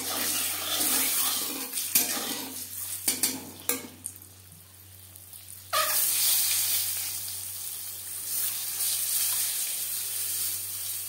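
Eggs coated with turmeric powder fry in oil in a kadai for egg curry: a close sizzle with clattering utensil knocks, a brief quieter gap in the middle, then the hiss rises again.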